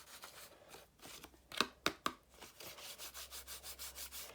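Gold gilding flakes scrubbed with a small foam scrub brush that has a rough surface, giving repeated close, dry rasping strokes that build into a steady rubbing rhythm, with a few sharper scrapes partway through.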